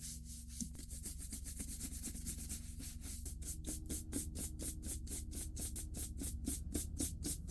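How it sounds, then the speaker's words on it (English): A brush scrubs surface dirt off Dr. Martens leather boots in quick, even back-and-forth strokes, close and steady, speeding into a regular rhythm. "Brush it down first."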